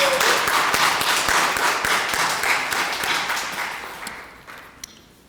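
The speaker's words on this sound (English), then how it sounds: "Let's give a round of applause for all of our presenters." Audience clapping rolls through a room at a charity campaign kickoff event for all the presenters. It starts full and steady, then gradually fades to a few scattered claps.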